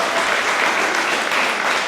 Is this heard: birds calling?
no